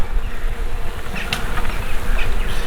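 Dense, steady buzzing of many honeybees close by at a hive, a continuous loud drone with no voices.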